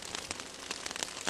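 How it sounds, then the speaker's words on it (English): Heavy rain patters on tents in a dense, steady spray of close, crackling drops. "It's raining pretty good. You can probably hear it."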